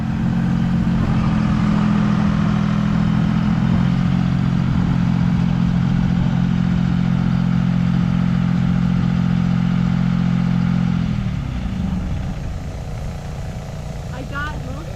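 An old forestry skidder that sat fifteen years, with a sticking gas pedal, runs loud and steady as it drives. Its heavy engine drone holds constant, then drops and fades toward the end with some clatter.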